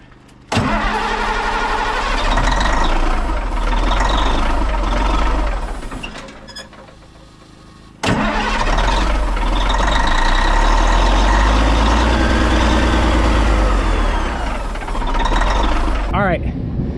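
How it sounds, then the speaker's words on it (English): A Kenworth K100 cabover truck left sitting for nearly two decades cranks and fires loudly, fades out after a few seconds, then restarts with a sharp catch and settles into a rough, rumbling idle. "Okay, Jim, fire it up."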